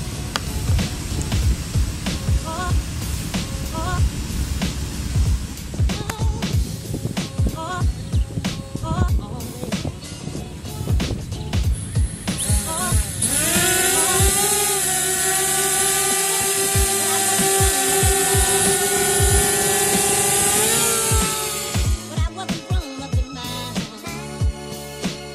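A DJI Spark drone's motors run after being switched on, first as a busy mechanical whir with clicks, then rising into a steady high-pitched buzzing whine that winds down near the end.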